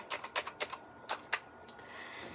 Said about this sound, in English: I wanted to be able to hear it when I type.